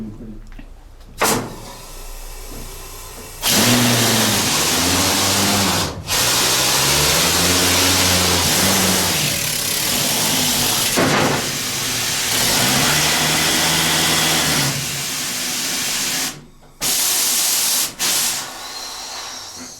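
A loud, heavy mining machine roars and revs with steady hissing, pausing briefly a few times before surging again; no one speaks.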